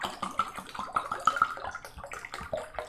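Water bubbling and gurgling in a bottle holding a Marble Queen pothos cutting, a quick run of small close bubble pops and trickles with no talk.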